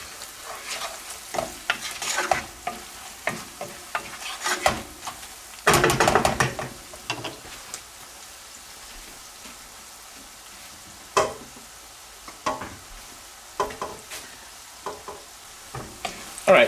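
Onions caramelizing in butter in a pan, stirred with a utensil: repeated scraping and clattering strokes over a soft sizzle, with a burst of louder stirring midway and scattered knocks later.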